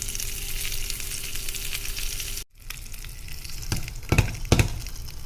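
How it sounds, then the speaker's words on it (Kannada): Mustard seeds and curry leaves splutter in hot tempering oil, a steady sizzle broken by a brief gap, then sharper crackling pops near the end. "ಸಾಸಿವೆ ಸಿಡಿತಾ ಇದೆ ಕರಿಬೇವು ಹಾಕ್ಕೊಳ್ತಾ ಇದ್ದೀನಿ"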